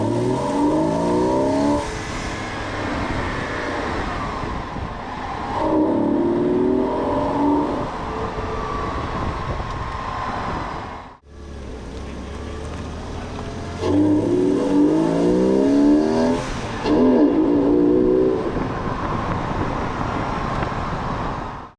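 A Porsche 986 Boxster fitted with a custom cold air intake is driven, its engine note rising and falling through repeated accelerations, loud and close, with a brief drop around the middle before it pulls again.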